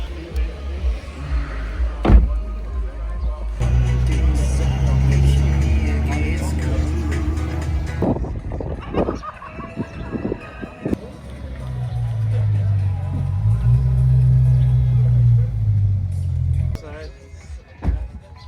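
Engine of a new car pulling hard and accelerating on the road, a steady loud drone with rising revs in two long stretches, broken by brief knocks and bumps between them.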